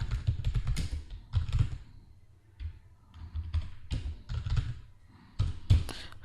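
Close, irregular keystrokes tap on a computer keyboard while figures go into an Excel spreadsheet, coming in quick clusters with brief pauses between.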